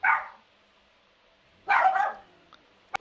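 Pet dogs bark indoors in a few short, sharp bursts with gaps of quiet between them, sounding moderately close and carrying no talk over them.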